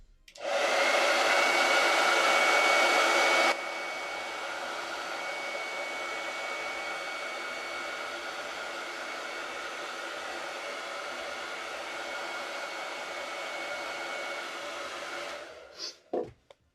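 A hair dryer drying chalk paste on a silkscreened gnome door tag craft, a loud steady whooshing blow at high speed that drops to a lower setting and runs on before clicking off near the end.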